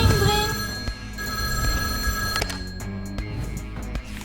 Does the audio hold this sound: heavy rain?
no